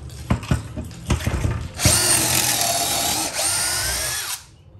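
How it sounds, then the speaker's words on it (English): A power drill with a collared bit bores a pocket hole in 1½-inch lumber: a few sharp knocks while the piece is set, then a loud sustained whir for several seconds that cuts off abruptly. "Putting it in my drill."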